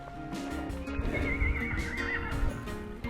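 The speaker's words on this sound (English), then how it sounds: "These are horses." Horses on a hillside along the Camino Primitivo's Hospitales route give a loud, close whinny with a wavering pitch, backed by shuffling hoof movement and snorts.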